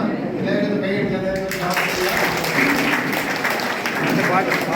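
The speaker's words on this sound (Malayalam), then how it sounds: "എല്ലാവരും കൈയടിച്ചത്" An audience on a trip bursts into applause for a birthday, starting after a voice speaks. The dense clapping then continues for several seconds, mixed with talk.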